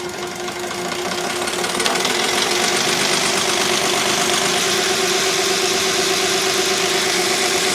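A New Holland LX885 skid steer's diesel engine settles into low idle, a steady knocking rumble that swells slightly in the first two seconds and then holds constant and close.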